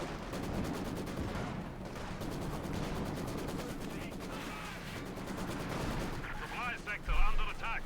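Machine gun fire and other gunfire from the real-time strategy game Company of Heroes 2, rattling bursts mixed with dense battle noise, running under a commentator's talk.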